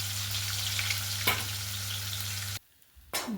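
Two large pieces of katla fish sizzle in hot mustard oil, a steady, close crackling hiss that cuts off briefly into near-silence, then bursts back in at the end.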